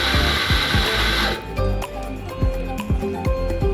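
A Fiorenzato F64 Evo burr coffee grinder grinds coffee to season the burrs: a loud, bright whirring burst that stops, then a series of sharp clicks, taps and knocks, close up.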